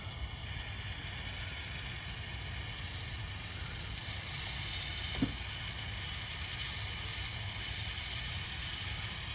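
A steady bubbling hiss of engine coolant boiling in an overheating Acura Integra fills the clip, with one faint tick partway through and no voices.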